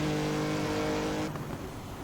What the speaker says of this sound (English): the straight six is a nice torquey motor